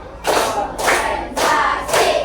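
Children in a classroom clap game clap together in four loud, evenly spaced bursts, each a ragged group volley, with a brief pause between them.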